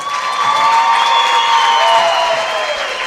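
A packed gym crowd at a girls' high school basketball regional final roars and cheers for the Mansfield Lady Tigers, a loud, steady wash of voices with whistling tones throughout.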